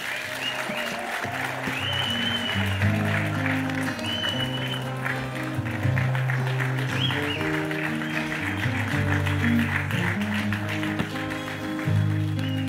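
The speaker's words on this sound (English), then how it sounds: "A resounding round of applause" Audience applause at a ceremony in Ghana, steady clapping and crowd noise running throughout beneath prominent sustained music with a repeating low melodic line.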